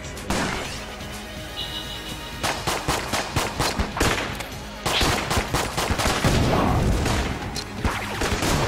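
Video game sniper rifle fire: repeated sharp, loud gunshot cracks mixed with dense game effects and other firing across the whole stretch, with no clear pauses.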